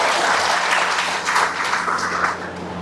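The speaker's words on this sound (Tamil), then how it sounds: "ஒரு பெரிய கைத்தட்டல் கொடுத்தாரு." An audience at a counselling camp for TNPSC exam students breaks into sustained clapping, a dense round of applause over a low steady hum from the hall.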